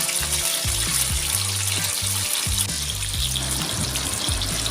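Fish pieces frying in a pan of oil, a steady bright sizzle running throughout, with low background hum and occasional soft thumps of kitchen activity, no talking.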